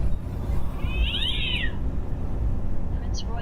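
A cat gives a single drawn-out meow over a steady low rumble inside a semi truck cab, with faint background talk.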